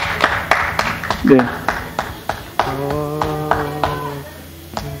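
Sparse hand claps from a church congregation during a service, several separate claps at an irregular rhythm, with speech and a sung or spoken voice running over them.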